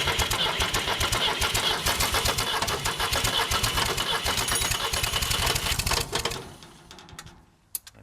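A Ford diesel tractor engine cranks and clatters hard at close range, a loud, rough, rapid knocking run that lasts several seconds before it cuts and fades to quiet.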